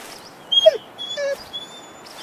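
A dog whimpers in the Hunting Simulator 2 video game, a few short high-pitched whines and yips heard close and alone.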